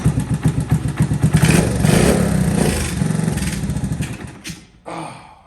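A 1982 Honda ATC110 three-wheeler engine sputters and pops along on starting fluid, its loud, uneven chugging firing in rough bursts for about four seconds before dying out, followed by a brief clunk.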